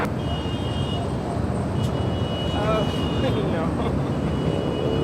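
Airplane engines at Los Angeles International Airport form a steady, distant broadband roar throughout, with a brief voice speaking over it.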